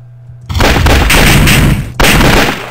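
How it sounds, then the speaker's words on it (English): Video-game gunfire aimed at a bear, with two loud, booming shots, the first after a short quiet stretch and the second following about a second and a half later, each leaving a heavy rumbling tail. "I just shot that bear."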